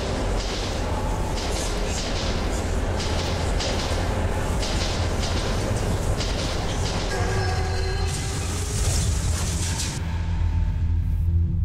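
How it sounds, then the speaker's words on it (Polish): In the Metro 2033 Redux video game, a ghost train passes through a tunnel, a sustained low rumble with rattling and metallic tones that swells and shifts over several seconds, with no talk. "Pociąg. Pociąg widmo, patrzcie."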